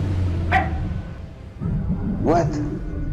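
A dog barks in the Fortnite video game, two short yips standing out over ongoing game sounds while people talk.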